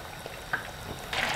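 Battered chicken pieces deep-frying in a pan of hot oil, a steady close hiss and bubbling that swells louder near the end, with no talking.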